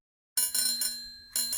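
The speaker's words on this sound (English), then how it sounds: "bicycle," A bicycle bell rings out clearly: a quick double ring followed by a lingering metallic tone, then one more ring, all alone against silence.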